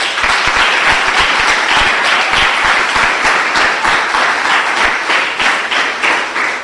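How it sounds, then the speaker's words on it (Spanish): A church congregation applauds loudly and continuously in a reverberant hall, dense clapping sustained throughout with no voices. "Démosle un aplauso al Señor."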